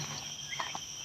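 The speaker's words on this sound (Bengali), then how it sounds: "ঝিঝি পোকার ডাক, সুন্দর ঝিঝি পোকার ডাক।" Crickets in a village lychee orchard make a faint, steady high-pitched chirring drone, distant and quiet, with a couple of brief soft chirps over it.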